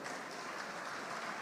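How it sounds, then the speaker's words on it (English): An audience at a gathering for Air Peace's tenth anniversary claps in a brief, steady patter heard from a short distance, fairly faint, with no clear voices. "now they clap for themselves."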